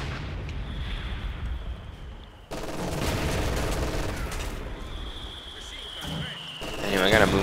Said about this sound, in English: You can see I'm going to start training fire with this mortar.